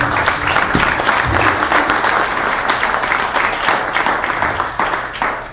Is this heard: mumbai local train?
no